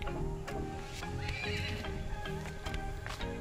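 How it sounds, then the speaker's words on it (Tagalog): A horse whinnies at a rural campsite in Bulacan, with steady clip-clop of hooves through a dense, continuous mix; no talking. "So may kabayo dun."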